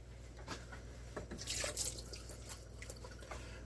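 Faint, steady tap water runs while hands are rinsed beneath it after cleaning a rainbow trout, with soft splashes and drips that rise and fall.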